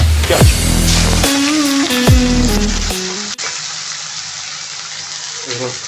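Chopped onions dropped into hot oil in a pan for egg curry, a loud crackling sizzle that starts strong and settles into a quieter steady fry, with stirring scrapes and a voice talking early on.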